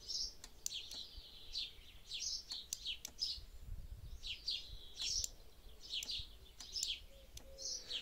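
Birds sing repeatedly in bright, high chirping phrases at a steady pace, with occasional sharp clicks and a faint low rumble underneath.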